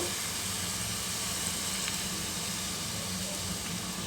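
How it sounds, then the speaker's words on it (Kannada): Tamarind juice sizzles in a pan on medium flame while huli avalakki is cooked, a continuous even frying hiss with no talking. "ಈಗ ಹುಣಸೆಹಣ್ಣು ರಸ, ಮೀಡಿಯಮ್ ಫ್ಲೇಮ್ ಇಟ್ಕೋಬೇಕು"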